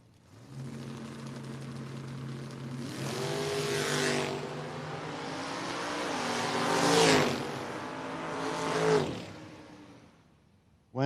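Drag race cars in a No-Box 660 Shootout Friday night gamblers race rev and howl down the strip in three rising surges of engine whine, each swelling louder and then cutting off, heard from some distance with no talk.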